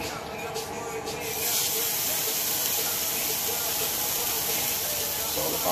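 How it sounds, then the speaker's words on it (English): Burgers sizzle loudly on a hot grill, a continuous hiss that swells after the first second and holds steady. "It's all about the sizzle."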